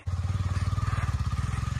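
A motorcycle engine runs close by at night, a steady fast-pulsing thrum with an even rhythmic beat, loud and alone for a couple of seconds.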